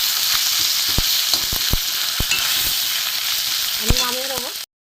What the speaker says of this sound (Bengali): একটু ভালো করে ভাজা হোক মাথাটা এখন কাঁচা আছে করে মাছের মাথাটা ভালো করে ভাজা হয়ে গেছে